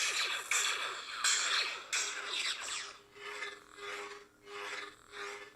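Swing sounds from the Kyberphonic Return V2 sound font on a Roman Props MK1 Proffie lightsaber: a string of airy, rasping whooshes, several quick sharp sweeps, then slower, softer pulsing hums that rise and fall, with no voices.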